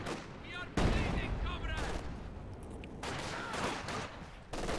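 Sniper and rifle fire in a long-range battle in a real-time strategy game: a few sharp shots and bursts over busy battlefield noise, moderately loud, with faint voice-like game chatter.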